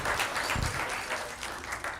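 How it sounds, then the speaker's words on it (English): Round of applause for Abbas at a mosque volunteer appreciation dinner, a short burst of close, dense clapping from the room that continues without pause. "So big round of applause for Abbas,"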